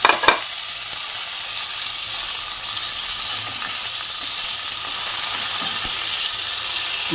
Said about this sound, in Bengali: এবার এই তেলের মধ্যে আমি ফুলকপিগুলোকে ভালো করে ভেজে নেব।